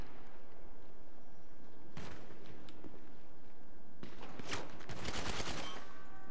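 Bursts of automatic weapon fire in GTA Online, a short volley then a dense rapid string of loud shots with sharp echoing cracks over a quiet game backdrop.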